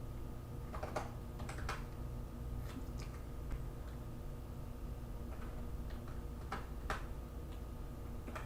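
Quick, irregular clicks of fingers typing on a computer keyboard, soft and close, running steadily throughout with no voices.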